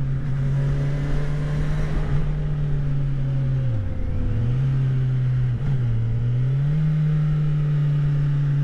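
A 2019 Kawasaki Versys SE 1000 motorcycle with a 1000 cc engine pulls through short bends in third gear, its steady droning note dipping twice and climbing again as the throttle eases and opens, with wind rushing past and no voices.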